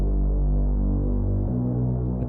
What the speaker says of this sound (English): the grunge bass sounds like this